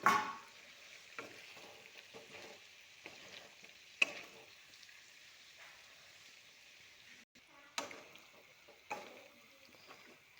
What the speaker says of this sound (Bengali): মাংসটা কষানো হওয়ার পরে এখন ভেজে রাখা আলুগুলো এখানে দিয়ে দেবো। একটু নাড়াচাড়া করে